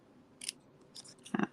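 Scissors cut paper for a handmade card in three short, quiet snips spread across a second and a half, crisp and close with no talk.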